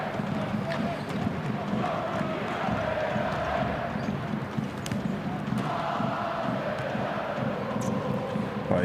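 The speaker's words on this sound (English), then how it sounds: "you can just sit back and listen to this crowd to get yourselves excited" Crowd noise inside a basketball arena before a Champions League game, a continuous broad roar of spectators with scattered sharp thuds and shouts, moderately loud and steady throughout with voices mixed in.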